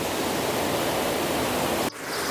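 A waterfall in a village near Barabanki roars as a dense, steady rush of water, loud and close, cutting off abruptly near the end.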